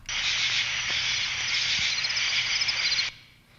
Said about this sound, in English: and some insects in a swamp.